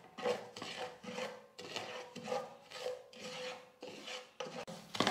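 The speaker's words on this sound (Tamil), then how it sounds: "2-3 நிமிஷத்துக்கு ரவையை நல்லா வறுத்துக்கிட்டேன்" Semolina being roasted in ghee in a kadai, heard as repeated rhythmic scraping and rubbing strokes of a spoon against the pan, close and fairly quiet with no talk.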